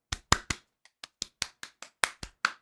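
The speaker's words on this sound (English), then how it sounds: "Round of applause all around." About a dozen separate hand claps ring out close and crisp, loosely spaced like a small slow round of applause, with no voices alongside.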